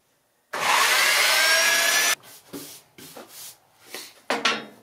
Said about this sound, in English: I'm just going to hit it quick with the belt sander with some, I believe this is 50 grit on it.